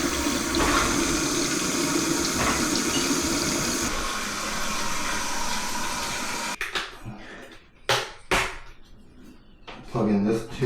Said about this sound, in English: Supposed to be the tornado flush.